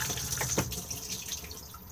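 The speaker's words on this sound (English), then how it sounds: "push the flush" Water rushes steadily through the cassette toilet of a Benimar Mileo 294 motorhome as it flushes, a continuous close hiss and gurgle that holds for the whole moment.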